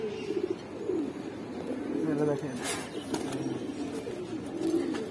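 Giribaz pigeons, a silver bagha hen among them, coo in soft repeated rolls close by, while someone talks over them.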